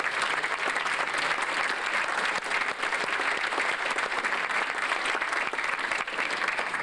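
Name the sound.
audience applauding the parents at a sports banquet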